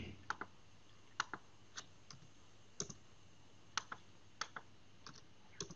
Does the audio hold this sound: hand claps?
no